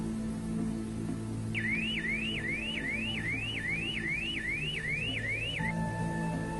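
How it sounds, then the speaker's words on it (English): A Peugeot 206 intruder alarm whoops in a rapid repeating rising siren pattern for about four seconds over a low background hum, then switches to a steady tone. "the intruder alarm"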